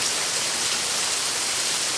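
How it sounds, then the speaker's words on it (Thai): Heavy rain pounding on a camper truck, a dense, loud, continuous hiss of drops striking the roof and surroundings, close and unbroken with no voices. "ฝนตกหนักแต่เช้าครับ ตกแล้วก็ยังไม่หยุดเลยครับ"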